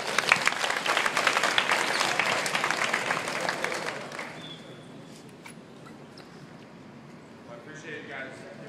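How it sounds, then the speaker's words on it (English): An audience applauds a guest speaker, a former player and coach, with loud, dense clapping for about four seconds before it fades to scattered claps and low room murmur. "let's give him a big round of applause"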